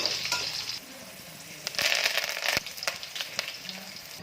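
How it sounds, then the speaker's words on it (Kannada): Crushed garlic sizzles in hot oil as seasoning for kadle puri, a bright crackling fry with occasional scrapes of stirring. "ಜಜ್ಜಿಟ್ಕೊಂಡಿರೋ ಅಂಥ ಬೆಳ್ಳುಳ್ಳಿ ಎಣ್ಣೆಯಲ್ಲಿ ಬೆಳ್ಳುಳ್ಳಿ ಚೆನ್ನಾಗಿ ಫ್ರೈ ಆಗಬೇಕು"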